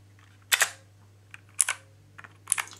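Keys pressed on a Drevo Calibur 72-key Bluetooth gaming keyboard: a few sharp, close clacks arriving in small clusters with pauses between, over a low steady hum, no talking.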